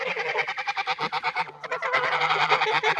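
Young geese of a large breed honk repeatedly in a rapid, rhythmic series of nasal calls, close and loud, with a brief pause midway before the honking resumes.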